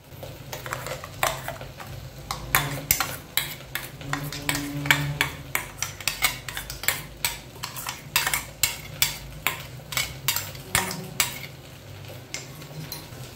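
Spoon knocking and scraping rhythmically against a clay pot while ground coconut is stirred into anchovy fish curry, regular close taps over a soft simmer, no talking.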